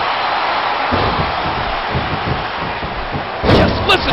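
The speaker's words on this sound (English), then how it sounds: "Just listen to his body crash into the ground." A wrestler crashes hard into the mat in the WWE SmackDown vs Raw 2009 video game. Dull thuds and slams repeat over a constant wash of arena crowd noise, and a couple of louder impacts land near the end.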